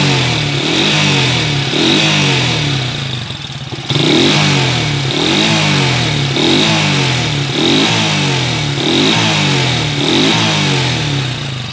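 A Kawasaki TMX 155 motorcycle engine with a rough, noisy running condition is revved repeatedly in a regular rhythm of rising bursts, loud and close throughout.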